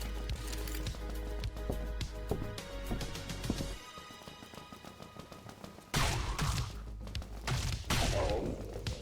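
Single-fire gunshots ring out in Dead Frontier, a run of sharp separate shots with rhythmic mechanical clatter, then heavier bursts of fire in the second half, fairly faint overall.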